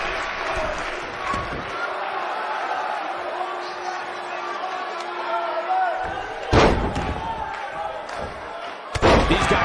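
Crowd noise from a sold-out arena at a wrestling match in the video game WWE 2K19 keeps up a steady roar throughout, with louder bursts of slams near the end and commentary talk over it.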